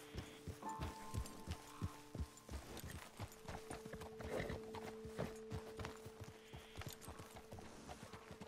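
Horses in the video game Red Dead Redemption 2, with a steady clip-clop of hooves at walking pace, close and continuous, and a brief tonal neigh-like cry near the start, no voices.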